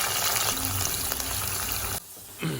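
Squeezed pieces of bitter gourd hit hot oil for frying and sizzle with a loud, steady hiss. The sizzle cuts off abruptly partway through, and a faint crackle follows.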